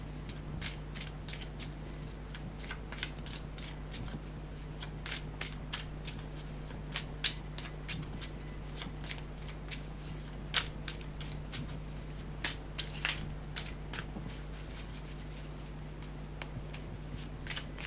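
Tarot cards shuffled and laid out for a love-guidance reading, with a steady dense riffle of crisp card flicks and sharp slaps close by over a low constant hum, and no talking.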